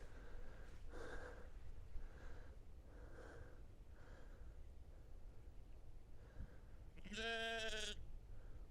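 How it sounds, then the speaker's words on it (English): A sheep bleats once, loud and clear, near an ancient castle mound in the countryside, after several softer breathy snorts and farm-animal noises with outdoor background hiss. "Sheep."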